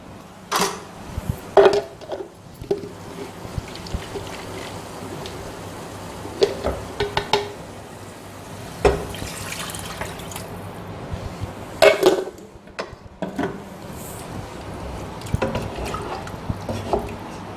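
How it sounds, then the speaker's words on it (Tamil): Water is poured into a pan of bitter gourd sambar over masala, with splashing, dripping and clinks of a metal pan and spoon, close and moderately loud, with no voices. "கலந்த உடனே கொஞ்சம் நம்ம தண்ணி சேர்த்துக்கலாம்."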